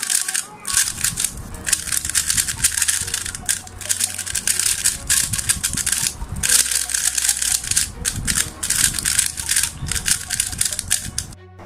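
A MoYu WeiLong GTS3 M speed cube, lubricated, is turned very fast, giving a dense, continuous run of loud, clacky, clunky plastic clicks and rattles close by, with only a few brief pauses.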